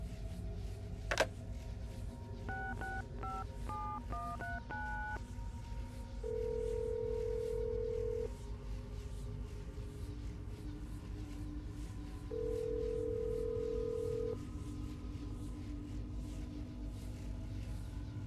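In Assassin's Creed Brotherhood, a telephone handset clicks up, a quick run of dialing tones follows, then two long steady ringback tones sound a few seconds apart over a low background hum.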